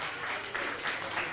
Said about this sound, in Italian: Ci vuole applauso come abbiamo fatto